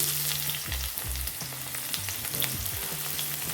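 Chopped onion hits hot oil already seasoned with whole garam masala and mace, giving a dense, continuous close-up sizzle with a few crackling spatters.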